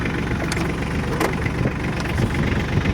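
A tractor engine idles steadily with a low, rumbling drone and no load, running continuously with no voices.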